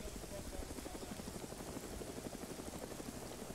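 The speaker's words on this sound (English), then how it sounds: "Oh, helicopter's flying. Still flying." A helicopter in the video game Arma drones steadily and fairly faint with a continuous rotor chop, holding an even level throughout with no talk over it.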